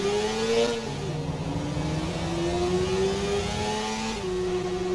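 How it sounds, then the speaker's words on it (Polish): A car engine in the Watch Dogs video game revs and accelerates through the city, a loud steady mid-pitched drone climbing in pitch with a brief gear-change dip, with no talk over it. "Gazu, Aiden, gazu"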